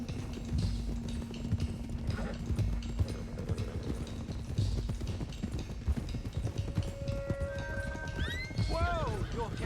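Horses being driven in the Red Dead Redemption 2 video game clop along at a steady pace with a constant rhythmic hoof patter, and a sharp whinny rises near the end.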